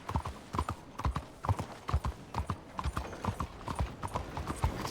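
Horse hooves clip-clopping at a steady walking rhythm in the Red Dead Redemption video game, a close, continuous run of hoofbeats with no other sound over them.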